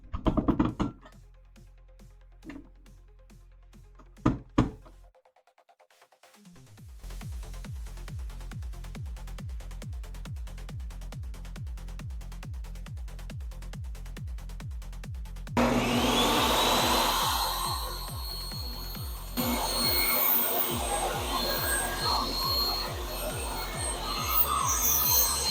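A table saw blade, set to a quarter inch height with the fence at 2 5/8 inches, cutting a wooden planter board, a steady whirring drone that grows louder and harsher as the blade bites into the wood.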